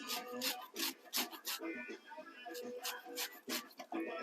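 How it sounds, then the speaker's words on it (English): Lemon zest being grated, a steady run of rough rasping strokes in quick bursts, close and fairly loud, with no talking over it. "don't go too far down when you zest your lemon"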